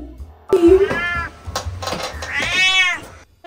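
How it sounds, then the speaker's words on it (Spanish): A cat meows twice nearby, a rising, wailing first call followed by a longer drawn-out one, against a quiet indoor background. "¿Es un gato maullando?"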